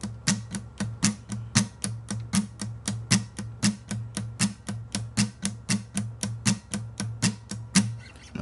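Electric guitar strummed with all downstrokes in a song rhythm, a fast, even, percussive chugging pattern of short sharp strokes that carries on steadily and alone at moderate level.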